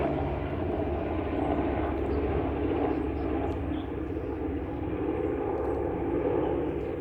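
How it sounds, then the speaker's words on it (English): A steady, droning engine roar fills the air, a low rumbling hum that stays constant throughout as an aircraft passes close overhead. "helicopter going like directly over again"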